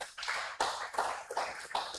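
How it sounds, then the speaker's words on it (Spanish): A church congregation applauds for the Lord, with close, uneven clapping in a few strong bursts that stays fairly quiet overall. "Démosle un fuerte aplauso al Señor, hermano."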